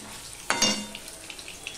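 Fresh paneer pieces fry lightly in a pan, a brief close sizzling burst that quickly settles into a faint, crackling hiss.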